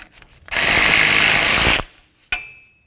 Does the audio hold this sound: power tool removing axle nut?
yes